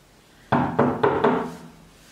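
Four quick knocks on a wooden door, evenly spaced and fairly loud, in an otherwise quiet room.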